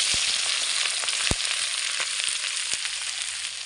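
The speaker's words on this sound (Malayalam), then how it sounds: "ഇതിനെ നമുക്ക് ഒരു ചട്ടി കൊടുത്ത് ഇളക്കി വഴറ്റി കൊടുക്കാം" Onion, ginger, green chilli and garlic sauté in a pan for a Kerala-style country chicken curry, giving a steady close sizzle with a few sharp clicks of stirring and no talk.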